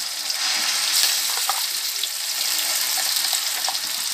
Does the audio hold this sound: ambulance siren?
no